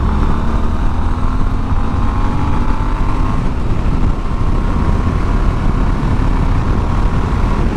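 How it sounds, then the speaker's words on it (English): A Triumph Scrambler 1200 motorcycle runs with a steady, loud engine drone and rising tones as it is revved, continuous and close with strong wind noise and no voices. "All right, let's get some revs in."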